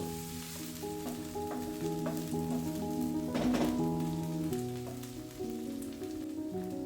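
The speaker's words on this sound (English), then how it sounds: "Add 1 teaspoon of ginger garlic paste. Give it a stir." Ginger garlic paste sizzles steadily in a hot pan with chopped onions as it is stirred for masala dosa filling, giving a close, continuous crackle with a few scraping strokes and no talking.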